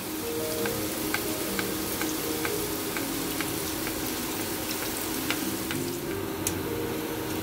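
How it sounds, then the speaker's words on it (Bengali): Boondi batter drops sizzle and crackle steadily in hot oil, a dense close frying hiss with small scattered pops throughout and no voices. "দেখুন কি সুন্দর আমার তেলের মধ্যে পড়ে ছড়িয়ে যাচ্ছে চারিদিকে।"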